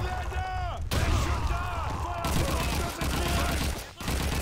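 Sustained machine gun fire in the World War II shooter Call of Duty 2, a dense and loud continuous rattle of rapid shots with brief gaps, while someone talks over it.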